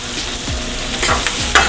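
Liquid butter sizzles in a hot pan as ingredients are sautéed and stirred, a steady loud frying hiss broken by several scraping strokes of a utensil against the pan.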